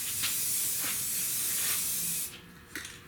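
Spray gun laying a light dust coat of paint on a 1966 Buick Wildcat GS, a steady close hiss that stops abruptly near the end, followed by a short puff and quiet.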